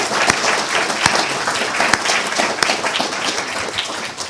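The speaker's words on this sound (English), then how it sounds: "so let's give them a round of applause." An audience at a graduate program's final briefings claps for the faculty, a dense and steady round of applause with a few sharp, close claps standing out throughout.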